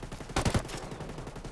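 A short burst of rapid gunfire in the video game Ghost Recon Wildlands, three or four loud, close shots in quick succession, then a low fading rumble.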